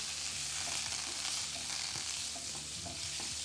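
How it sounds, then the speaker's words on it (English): Six tablespoons of butter melt in a frying pan before veal cutlets go in, giving a loud, continuous hiss and bubbling crackle with no talk over it. "melt 6 tablespoons of butter in our pan"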